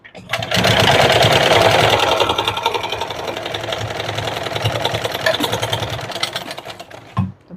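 A sewing machine stitches a princess-cut deep-neck blouse, running in a loud continuous whir that steadies and then slows to a stop, with someone talking over it.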